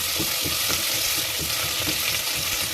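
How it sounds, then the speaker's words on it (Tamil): Small onions and curry leaves sauté in a clay pot: a loud, continuous close-up sizzle with soft rhythmic stirring scrapes beneath it. "வெங்காயம் நல்லா வதங்கிட்டு இருக்கு"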